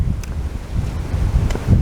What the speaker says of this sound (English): apologies if this wind isn't being very friendly